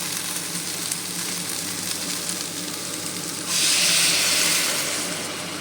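Water poured into a pan of spice paste that has been frying a long while for a fish curry with vegetables, the steady sizzle surging into a louder hissing rush midway as the liquid hits the hot pan.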